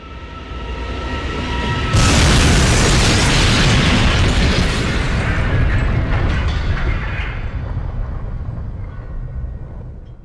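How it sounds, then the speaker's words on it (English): An explosion sound effect on a train in an audio drama: a sudden loud blast that swells into a long, roaring rumble and slowly fades over several seconds. "Just then, there's another explosion, and the train lurches again, throwing everyone to the floor."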